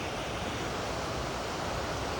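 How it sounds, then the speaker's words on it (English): A small waterfall on a redwood forest trail near Trinidad roars as a steady, loud, broadband rush of falling water, with no pauses and no voices. "Little waterfall."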